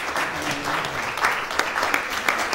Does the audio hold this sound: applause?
yes